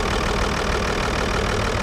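An Audi A6 Allroad C5 with the 2.5 TDI AKE V6 diesel (180 hp) idles close by, giving a steady, even rumble and clatter that holds level throughout, with no talk.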